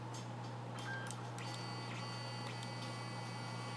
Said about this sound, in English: It may take a couple of seconds for the printer to begin printing.